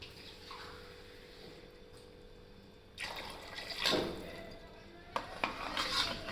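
Water is poured into a pot of chickpea and dried fish curry, with a brief splash around three seconds in and a louder burst of pouring near four seconds, then a short clink and further splashing toward the end.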